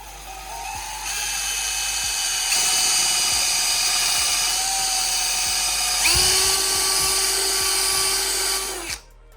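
An Osborn nylon internal brush spins at high speed on a power tool while polishing the inside of a part, giving a loud, steady, whining drone that shifts pitch partway through and stops abruptly near the end, with no talking.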